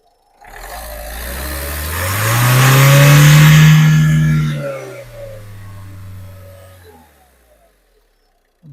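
A 2015 Ford EcoSport Titanium diesel engine revs once, rising from idle to a loud, close roar that holds briefly, then falls back to a smooth idle and dies away. No one talks.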